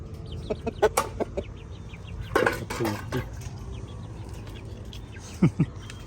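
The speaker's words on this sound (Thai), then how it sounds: "ดูแลไก่ครับ มาปฏิบัติไก่ครับ" Chickens cluck in a garden in the evening: scattered short clucks close by, with quiet stretches between them and a louder cluster near the middle and another near the end. No one speaks.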